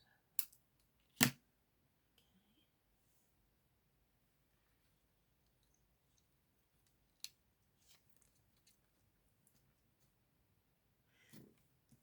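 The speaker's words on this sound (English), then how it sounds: "So I might just snip this a little bit." Scissors make a few isolated snips while trimming craft material for a leaf decoration, close and crisp, with long quiet gaps between the cuts.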